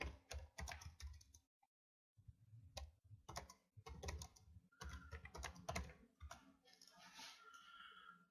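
Rapid typing on a computer keyboard, a steady run of small clicking keystrokes with a brief pause, heard close and at low level with faint voices in the background.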